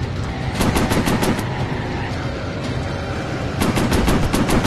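Warplane machine guns firing in the VR game Warplanes: Battles over Pacific during a night mission, two loud rapid bursts of rattling gunfire close up over a constant engine roar.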